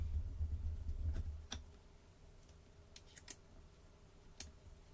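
Scissors snip a small piece of paper card. A few sharp, quiet cuts and clicks are spaced out over a faint low hum.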